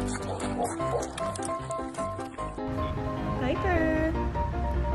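Pig grunts and oinks over music, with a voice speaking in the background.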